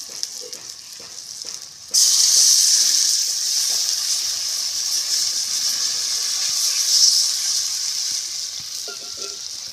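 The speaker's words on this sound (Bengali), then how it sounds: "এবার জল দিয়ে দিই" Water poured into a pan of frying prawn masala sets off a sudden loud, steady sizzle that holds for several seconds after a quieter stretch of stirring clatter.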